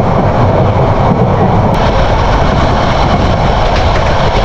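The Cox's Bazar Express, a brand-new train running between Dhaka and Cox's Bazar, gives a loud, steady, low diesel engine rumble that holds unbroken throughout.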